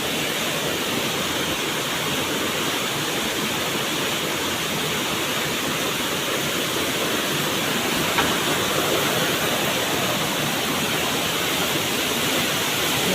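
Rushing stream water at Pavankhind, a loud continuous roar of tumbling water close by, steady throughout with no voices.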